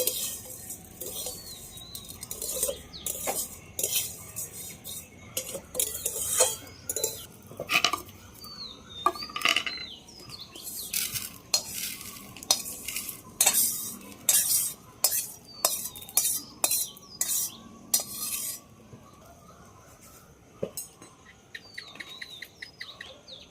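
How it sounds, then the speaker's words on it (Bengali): Vermicelli fries in a pan as a utensil scrapes and clinks against the metal in repeated, uneven strokes. A faint chirping sound runs in the background, and no one talks. "সিমইটা লাল লাল হয়ে গেছে বন্ধুরা এবার আমি নামিয়ে নেব এরকম লাল লাল করে ভাজতে হবে"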